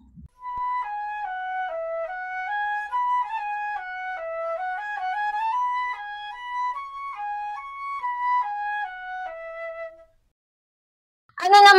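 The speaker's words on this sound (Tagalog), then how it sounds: "Tama, ito ay flauta." A flute plays a slow, clear melody of sustained single notes stepping up and down for about ten seconds, close and steady, then stops, followed by a short burst of sound at the very end.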